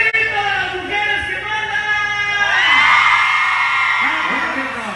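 Women in a crowd at a live band show in Okeechobee, Florida, whooping and shouting in long, loud, overlapping high cries that swell and trail off.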